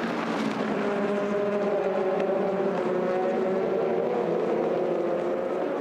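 Le Mans prototype race cars with 4.2-litre V8 Gibson engines at the start of the 4 Hours of Le Castellet, a continuous layered engine roar from several cars, steady and moderately distant.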